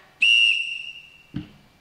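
A netball umpire's whistle gives one loud, clear blast lasting about a second, followed by a short thud.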